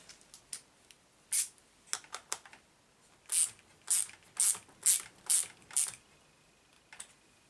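Tightening a part on an Arrma Vendetta RC car produces a series of sharp, close clicks and short ratcheting bursts in an uneven rhythm, with quiet gaps between them.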